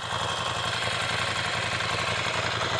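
Steady low rumble of a 2017 Ducati Scrambler Cafe Racer motorcycle engine at a constant pace, close and continuous with a faint rhythmic pulse and no speech.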